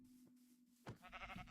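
A sheep bleats in the Minecraft video game, one short wavering call rising suddenly over a faint steady hum, fairly quiet and alone.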